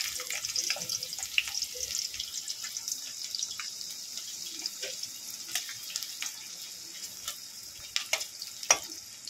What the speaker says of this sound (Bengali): সাদা তেলে আমি পুরটা বানাবো। পেঁয়াজ দিয়ে দেবো।